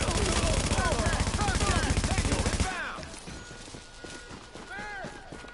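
Rapid automatic gunfire from Tom Clancy's The Division, with dense bursts that cut off abruptly partway through, then scattered shots and game noise further back.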